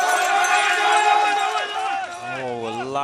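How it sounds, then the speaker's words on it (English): Large crowd at a SWAT team competition cheering loudly and continuously, with a roaring mass of voices that swells and then shifts into excited shouting. "a loud cheer for Malakit of Russia"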